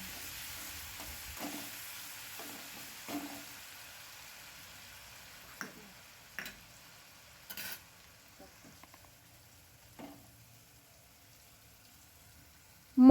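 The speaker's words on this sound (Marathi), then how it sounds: "हिरवी मिरची, आलं, लसूण आणि कोथिंबीर याची पेस्ट टाकायची आणि त्याला चांगलं तेलामध्ये परतून घ्यायचं" A paste of green chili, ginger, garlic and coriander fries in oil with cumin for a kachori filling. The sizzle is soft and low, broken by sporadic pops and a few sharper stirring taps, with no talk.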